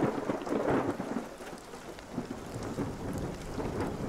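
Steady rain falling through a storm, with low rumbling thunder rolling underneath and a few louder swells, continuous and fairly close throughout, with no voices.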